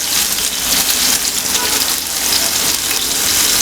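Soya tikka frying gently in a pan over a low flame, giving a steady, dense sizzle and crackle that runs evenly throughout without any speech.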